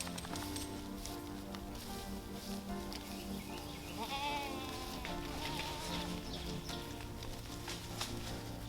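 Goats bleating on a farm, with one clear wavering bleat standing out midway and fainter animal calls around it over steady ambient noise, with no talking.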